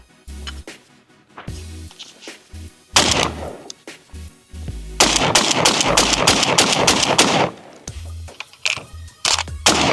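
A Benelli M2 semi-automatic shotgun fires in several loud bursts of quick successive shots with sharp blasts and echo, separated by quiet pauses and faint handling noises, with no talking.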